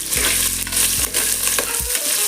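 Three sliced large onions and four green chillies fry loudly in a pan with curry leaves for a country chicken biryani, a dense continuous sizzle with stirring strokes and a low steady hum underneath.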